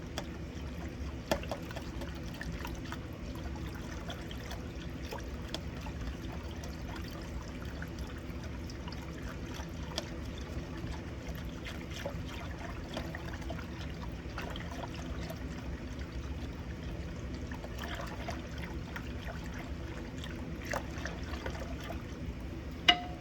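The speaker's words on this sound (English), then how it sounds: "Now we're gonna take a whisk and kind of stir that together really good" A whisk stirs sugar into warm juice, a steady, continuous liquid swishing and trickling at close range, with a few faint clinks scattered throughout and no talking.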